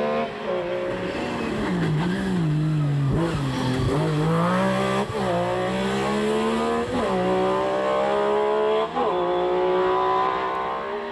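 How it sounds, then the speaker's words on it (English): A Malcolm Wilson-prepared Ford Escort rally car at full speed on a stage of the 1997 Wexford Stages Rally: loud engine revs climb again and again with each gear change, alone and close by. "The crisp-sounding Malcolm Wilson prepared Escort is fastest on all 9 stages"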